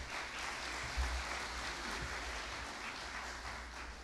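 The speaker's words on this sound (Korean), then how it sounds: "큰 박수 부탁드립니다." A large audience at a Hanyang Cyber University graduation ceremony in August 2014 gives steady, sustained applause, heard as an even wash of clapping from a moderate distance.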